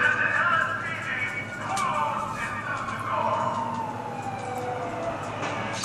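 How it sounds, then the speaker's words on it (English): Police sirens wailing during a cop chase in the video game GTA 5, a loud, sustained rising and falling tone with engine noise underneath. "Huh, cop chase going on."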